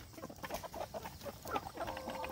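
Cornish cross meat chickens on a pastured poultry homestead, clucking in a busy, overlapping flock chatter of soft short calls, steady and moderately close with no talking.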